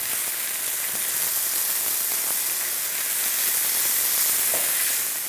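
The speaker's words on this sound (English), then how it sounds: "We'll allow the leeks to cook for 2 to 3 minutes, or until they start to become a little golden brown before we add the mushrooms." Chopped leeks frying in a pan, cooking down toward golden brown before mushrooms go in; a steady, dense sizzle and crackle holds close and even throughout with no talking.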